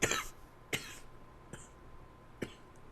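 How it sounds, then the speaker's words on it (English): Several short, sharp coughs from a man gaming, spaced irregularly apart, fairly close and moderately loud, with quiet pauses between them. "I think I just coughed up a lung"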